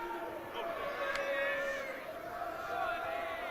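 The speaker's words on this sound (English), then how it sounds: "the sound from the stands here just has been unrelenting. Wave after wave of excited applause" Sustained roar of a stadium crowd in the stands at a rugby age-grade finals day at Sixways Stadium, Worcester, a steady wash of cheering and applause with a brief sharp accent, continuous throughout.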